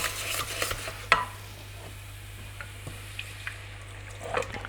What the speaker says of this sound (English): So it's just whisking